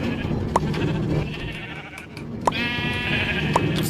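Blocky Minecraft sheep bleat in a game world, three short distinct baas spaced across the moment over a steady low background hum, fairly close and clear.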